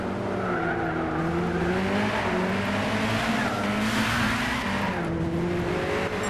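A Nissan Zytek LMP2 race car in the Gran Turismo 6 video game, drifting at Le Mans: loud, continuous engine roar with pitch sweeps through the corner, mixed with sustained tire squeal and skidding.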